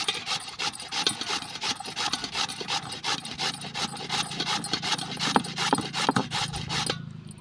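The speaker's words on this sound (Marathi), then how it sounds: "आता हे रताळे आपण किसून घेऊया" Sweet potatoes grated by hand on a large grater, a rapid, regular rasping scrape of repeated strokes, close and steady for about seven seconds with no talk.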